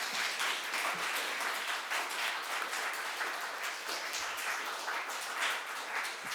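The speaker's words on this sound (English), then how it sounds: "Give yourself a round of applause again for the first Democracy Day" Sustained applause from an audience at the Cleveland Democracy Day public hearing, steady clapping from many hands filling the room without a break, moderately distant, with no speech over it.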